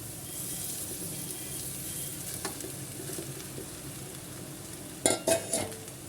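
Rice stirred into frying chicken rice in a hot pan, a steady low sizzle with soft stirring scrapes, then a few louder clattering stirs near the end; no voices.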